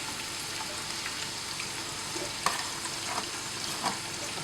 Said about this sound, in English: Now I need to fry this onion into light brown.